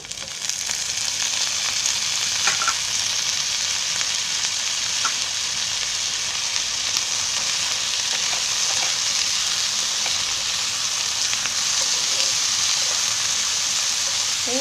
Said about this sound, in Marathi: कांदा थोडा भाजायला आला आहे त्याच्यामध्ये आहे ना तुम्ही मी बटाट्याची फोडं घेतले कापून ती टाकते